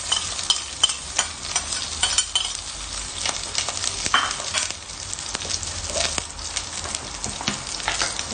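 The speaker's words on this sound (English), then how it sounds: "And then our onion, garlic, and chili, let's put together." Onion, garlic and chili sauté together in a pan for a spicy radish-leaf dish, a constant crackling sizzle with frequent clicks and scrapes of a utensil stirring, close and clear.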